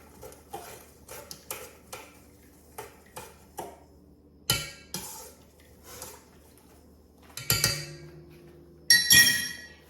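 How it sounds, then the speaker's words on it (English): A utensil taps and scrapes against a bowl while stirring sweet bread dough, giving a series of close, irregular clinks and knocks that grow sharper toward the end. "And I'm just going to stir it up."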